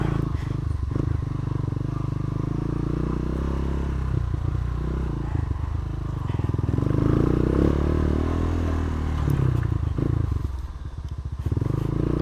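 Motorcycle engine idling and rumbling steadily up close as the bike is brought into a parking spot at a house entrance near a waterfall in Subic, Zambales, with some clatter and scraping.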